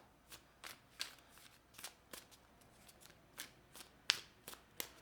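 Tarot cards being shuffled by hand, a soft, close series of quick riffling swishes and light snaps in an irregular rhythm, with no talk over it.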